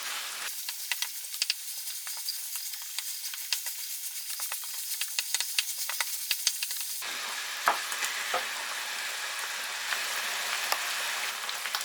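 Minced beef frying in a pan as the liquid boils off, a steady close sizzle with crackling pops that grows louder and fuller partway through.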